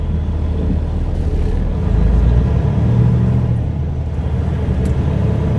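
Truck driving on snow, a steady low engine rumble with tire and road roar that swells slightly midway, continuous and close, no voices.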